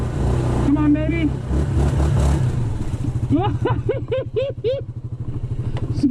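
A 2022 Yamaha Grizzly 700 ATV climbing out of ruts: a loud engine revving and labouring in bursts while a voice talks over it, and rising whoops of effort come through near the end.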